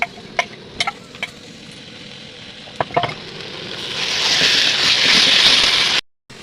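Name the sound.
onions with ginger-garlic paste being stir-fried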